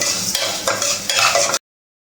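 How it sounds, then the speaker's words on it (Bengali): Mung dal dry-roasting in a dry pan without oil, a dense close rustling scrape as the lentils are stirred in bursts, then the sound cuts off abruptly. "এই মুগ ডালটা ভালো করে ভাজতে হবে। আর এটা একদম শুকনা খোলায় ভাজতে হবে, এটাতে আর তেল দেওয়া যাবে না"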